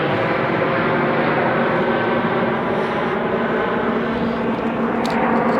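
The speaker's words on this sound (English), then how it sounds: "It's like he's going to land on my head. That is one hell of a plane." A low-flying airplane passes overhead at Poole Harbour, a loud, continuous engine roar that fills the whole stretch without fading.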